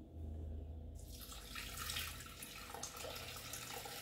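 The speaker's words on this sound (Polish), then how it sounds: "I to zalewamy mlekiem." Milk pours into a Thermomix TM6 bowl as a steady, close liquid rush that swells at about the first second and continues evenly to the end, with no voices.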